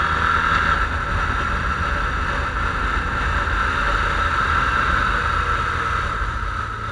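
Motorcycle engine accelerating on a mountain road tour with BMW R1200RS, Honda Crosstourer, NC750X and V-Strom bikes, a loud continuous engine drone with heavy wind rush, steady throughout with no speech.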